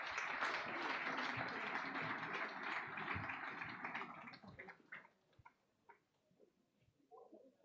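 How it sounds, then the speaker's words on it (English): An audience at a university sports awards gala applauds, a full, dense burst of clapping for about four seconds that thins into a few scattered claps and fades, with faint sounds near the end. "Can we please give her a round of applause?"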